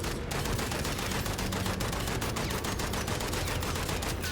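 Rapid sustained automatic fire from an FAL rifle shot from the hip in a multiplayer video game, a dense even stream of loud cracking shots running throughout with no pauses.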